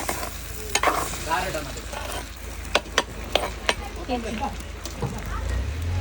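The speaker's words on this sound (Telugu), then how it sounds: "ఇదిగోండి మంచిగా దూరగా ఉడకబెట్టుకున్న బోటిని ఇలా మంచిగా వేసుకొని మొత్తం కలుపుకోవాలండి" Goat tripe (boti), boiled beforehand, stirred with onion masala in a pan at a Sankranti farm cooking session, giving a steady sizzle broken by several sharp scrapes and clinks of the spoon against the pan, with voices speaking under it.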